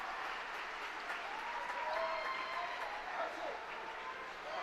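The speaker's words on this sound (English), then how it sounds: "And getting a big hand from the crowd here." Crowd applause at a girls' high school swim meet greets a swimmer finishing her 50; steady clapping and cheering rise from a reverberant pool deck, with a voice talking over it.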